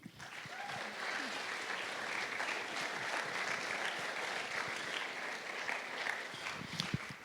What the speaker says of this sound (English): let's give our generous sponsors a big round of applause